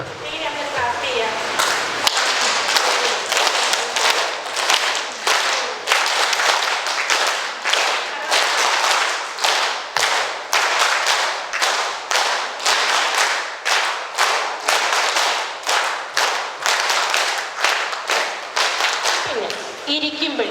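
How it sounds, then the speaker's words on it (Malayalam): Dense, sustained hand clapping from an audience at a college of education lecture, many hands beating fast and steady for about twenty seconds with brief dips, loud and close, voices murmuring underneath. "അടുത്ത് നിങ്ങൾ ഞാൻ പറയുന്ന പോലെ ഒന്ന് ക്ലാപ്പ് ചെയ്യണം കേട്ടോ"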